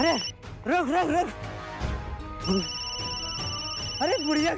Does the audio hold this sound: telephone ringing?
yes